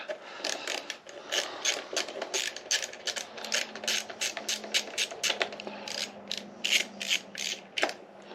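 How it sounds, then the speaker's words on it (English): An 8mm socket ratchet works a bolt loose on a 2024 Husqvarna FE350s motorcycle, giving a long run of rapid, close, dry clicking that carries on steadily for several seconds. "I want to take my 8mm socket, I'm going to go down inside of here."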